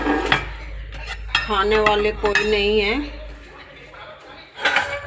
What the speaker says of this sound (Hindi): मैं कर रही हूँ यहाँ बर्तन साफ